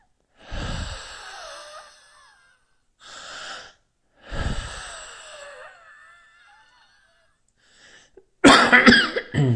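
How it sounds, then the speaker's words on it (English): A person with a history of childhood asthma wheezes and coughs in short bursts while practicing deep breathing, with raspy strained breaths between, close and loud, ending in a sharp burst of noise. "You're going to hear me wheeze."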